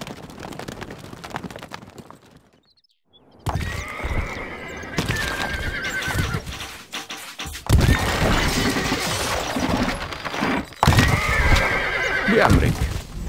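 Horses in the Stronghold Crusader strategy game whinny several times over rapid clip-clop hoofbeats, loud and close, with bursts of galloping and a brief near-silent gap early on.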